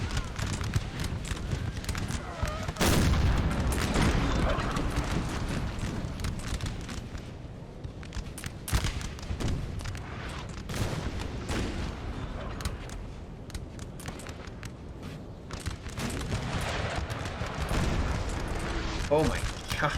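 Artillery fire in a Napoleon Total War 4v4 battle: dense, continuous rumbling booms and crackling volleys, loud and sustained, with a heavy close blast near the start and voices talking over the din.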